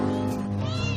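Pregnant cat about to give birth lets out one short, close meow with a rising pitch, heard alone.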